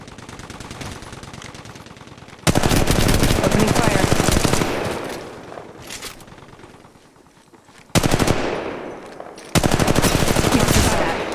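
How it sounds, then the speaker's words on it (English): Rapid automatic gunfire in the Apex Legends Mobile battle royale game, loud sustained bursts separated by short pauses and quieter stretches, with game audio in between. "I'm taking shots."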